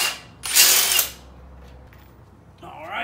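A powered tool spins a 14 mm socket to loosen bolts on a Yamaha YFZ450 quad during teardown, in one short, loud whirring burst followed by quieter shop ambience and a faint metallic clatter near the end.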